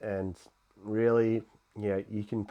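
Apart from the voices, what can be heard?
No everyday noise stands out behind the speech.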